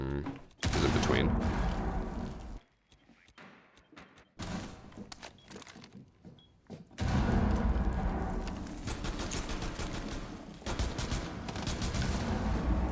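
Rapid gunfire in a first-person shooter video game, loud bursts of repeated shots in two stretches with a quieter gap between, likely pistol fire, with voices faintly mixed in.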